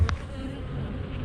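Honeybees hum steadily at an opened beehive during a beekeeping club session, a low continuous buzz at moderate distance with a brief louder knock near the start.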